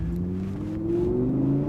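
Audi R8 V10 Plus exhaust note, a steady high-pitched wail with rising harmonic tones as the engine climbs through the revs, loud and continuous throughout.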